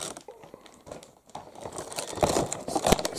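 Packaging of a bootleg Squid Game toy figure being opened, with crinkling plastic, tearing and rustling that grow louder and busier toward the end, close up and with no voices.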